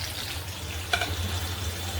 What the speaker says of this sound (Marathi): मिरची चांगली तडतडली.